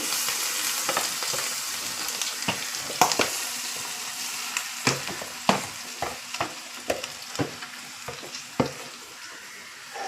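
Mango pickle mixture with chili sizzles in a hot pan, a steady frying hiss broken by a dozen sharp spoon scrapes and taps as it is stirred, up close and without talk.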